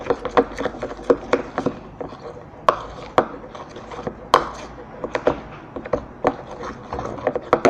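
Homemade white slime being whisked by hand, a run of irregular scraping and slapping strokes with sharp clicks, fairly close and steady over several seconds, with no voices.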